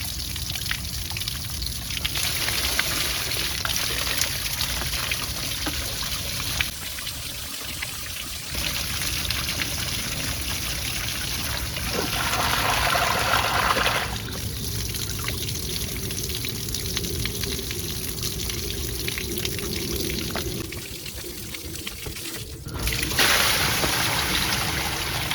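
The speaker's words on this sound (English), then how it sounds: "We're gonna go ahead and pull the head off the filter and allow the water to run out here." Water runs out of a DE pool filter after its head is pulled off, a close, continuous pour and trickle that shifts in strength as the flow changes, with no talking.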